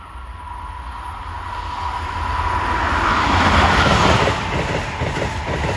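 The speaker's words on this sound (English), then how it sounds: "here comes 2159, the Acela, Boston to Washington. He'll be burning up the rails here" An Acela Express high-speed train, Boston to Washington, passes Princeton Junction, New Jersey, with a rising rush and roar that swells to a loud peak midway and stays heavy as the cars sweep by.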